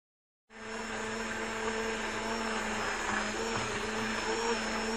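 An electric mixer starts up and runs steadily while blending baghrir batter, giving a continuous whirring motor drone with a high whine and no pauses.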